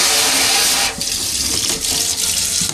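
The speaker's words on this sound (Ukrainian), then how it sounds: "Якщо мені це не подобається, я просто вмикаю звичайний кран." A water tap runs steadily into a sink, a loud close hiss of flowing water that shifts slightly as the stream is moved, with no voices.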